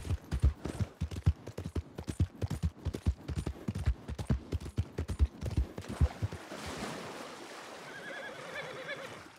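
A horse's hooves clip-clop in quick, steady beats in Red Dead Redemption 2 Online, close and distinct, then stop partway through, leaving softer ambient game sound.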